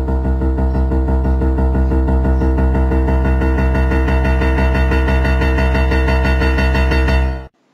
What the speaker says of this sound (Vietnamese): Và còn đây là biểu đồ biểu hiện âm thanh tự nhiên của Roland RP-102.